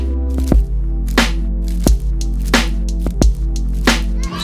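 A Foley recording is chopped by a noise gate triggered through a sidechain from a drum track with its polarity flipped, giving a steady sustained bed broken by sharp rhythmic pulses about every two-thirds of a second.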